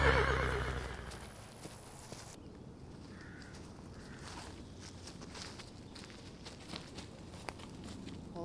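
Horses neigh loudly at the start, followed by hooves clip-clopping at a walk, fairly faint over quiet outdoor ambience.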